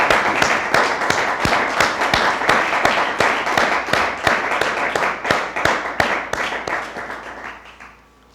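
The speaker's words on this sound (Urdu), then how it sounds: "زوردار تالیوں سے خداوند کے نام کو بلاؤ" A church congregation at a Sunday Thanksgiving service claps loudly and steadily in rhythm, sharp unison claps repeating about three times a second, then fading out near the end.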